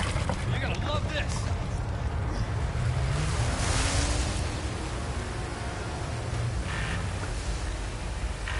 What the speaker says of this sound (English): And now we get to ride a water scooter.